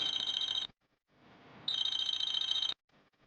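A phone rings in repeated electronic bursts, two long loud tones separated by a short gap, with no talking over it.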